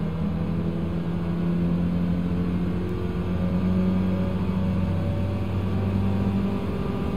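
A race car engine in Gran Turismo 7 drones steadily, a sustained loud hum holding near-constant pitch with slight rises and no pauses.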